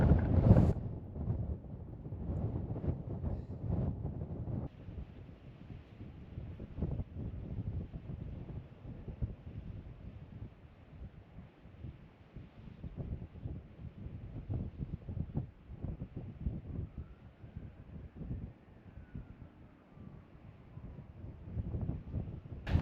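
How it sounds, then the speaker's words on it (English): Wind gusts in a steady, rumbling roar across a mountain ridge on Blencathra near Sharp Edge, buffeting the microphone with low, uneven swells throughout. "It's breezy, but there's some heat in that sun."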